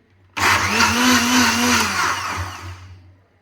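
A small electric whisk whirs loudly as it beats milk and sugar in a glass, starting abruptly and running steadily for about three seconds before winding down, with no talk.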